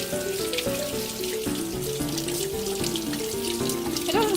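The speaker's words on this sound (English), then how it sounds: "Please remember that you need to wash your mushrooms." Cold tap water runs steadily into a kitchen sink while mushrooms are rinsed under the stream, a constant splashing flow with small shifts as the mushrooms are moved about, no talk.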